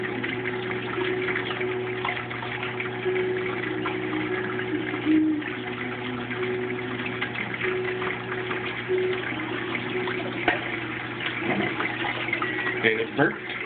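Water drains steadily through a bell siphon in a grow-bed setup, giving a continuous pumping, gushing flow with a low steady hum and occasional gurgles and splashes throughout.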